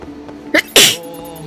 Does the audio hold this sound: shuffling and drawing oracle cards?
no